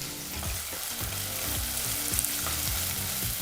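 Three finely chopped onions frying in a pan on a medium flame for onion rice bath, a loud, close, continuous sizzle with repeated stirring scrapes and knocks and no talking.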